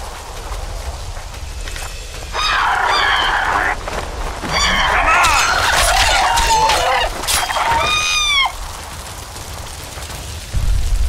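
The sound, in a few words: chickens clucking in a video game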